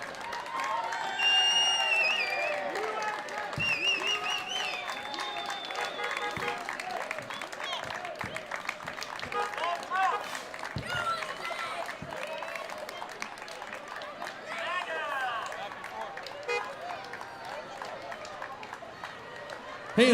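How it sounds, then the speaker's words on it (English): Spectators at a Fourth of July parade in Temecula clap and cheer along the route, a sustained crowd sound of scattered applause, whoops and chatter with nearby voices rising over it. "let's give a big round of applause to the Temecula Fire Department"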